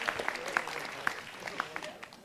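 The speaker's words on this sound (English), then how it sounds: "Another round of applause." A modest audience at a city council meeting gives a round of applause, scattered and fairly quiet, with a few sharper individual claps standing out.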